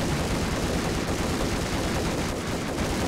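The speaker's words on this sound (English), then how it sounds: "Just shoot it until it goes away." Gunfire in Max Payne: a dense, continuous, loud barrage of rapid shots that blur into a sustained roar for several seconds, with no talk over it.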